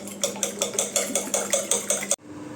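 Eggs are beaten into onions in a pan for an onion omelette, making about ten quick, rhythmic clinks of a utensil against the pan that stop abruptly and leave a quiet background.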